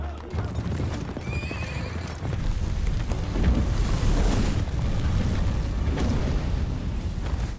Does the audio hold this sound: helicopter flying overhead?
no